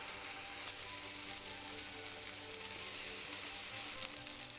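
Slices of Korean beef jeon (hanwoo yukjeon) sizzling in a lightly oiled frying pan, a continuous soft crackle and sizzle with a few small taps, fairly faint and without speech.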